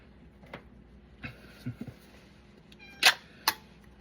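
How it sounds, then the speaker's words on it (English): A cat meows a few times, short scattered calls, with two louder, sharper meows near the end; fairly close with a quiet room behind. "So she's going to be meowing at me because she knows I do that."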